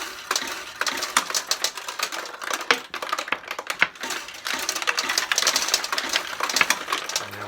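A modern Kyoraku pachinko machine pays out its won balls into the lower tray, a dense, rapid clatter of metal balls rattling and tumbling close by, steady for several seconds with brief lulls.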